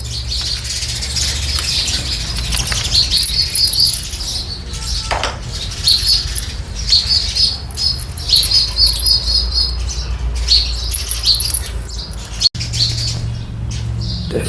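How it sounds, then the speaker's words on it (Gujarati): Many sparrows chirp and tweet busily and continuously at a village temple, a lively chorus of high, quick calls close by. "અહીંયા ચકલીઓ બધી હિલોલ કરે છે"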